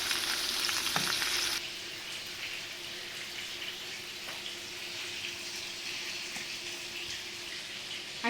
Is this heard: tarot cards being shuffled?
no